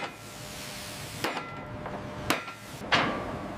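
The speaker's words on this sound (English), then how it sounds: "Workers secured the smokestack to the boiler casing with heavy rivets." Heavy rivets being hammered to fix a ship's smokestack to the boiler casing in a 1920s shipyard: three sharp metallic strikes at uneven intervals, fairly close, over a steady background hum.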